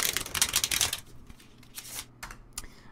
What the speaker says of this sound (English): A card shuffle sound effect,